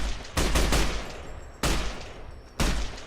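Three bursts of rapid automatic rifle fire in a Fallout: New Vegas game, each lasting about a second, loud and close with brief pauses between.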